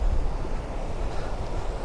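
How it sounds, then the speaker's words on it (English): A river stream flows steadily on a Connemara evening, a loud, continuous broadband rush of water with low rumbling and some wind buffeting, heard alone without voices. "I can hear a river"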